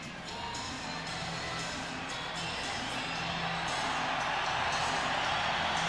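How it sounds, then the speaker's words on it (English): Basketball arena crowd at a 1994 NBA playoff game between the Sonics and Nuggets, a thick wall of cheering and shouting that swells slightly louder over the stretch, with a commentator's voice faintly under it. "the crowd again will try to pump up the Nuggets"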